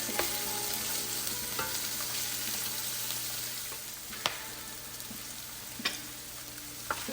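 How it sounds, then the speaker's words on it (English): Peppers frying in a pan over medium-high heat, a steady crackling sizzle with a few sharp ticks of stirring, close and continuous with no voices. "our pepper's been cooking for a few minutes"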